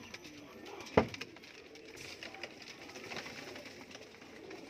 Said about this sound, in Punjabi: ਦੇਖੋ ਬਾਈ ਸਾਰੇ ਲਾਲ ਆਖੋਗੇ ਪਰਿੰਦੇ, ਗੂੜੀ ਲਾਲ ਬਲੈਡ ਆਖੋਗੇ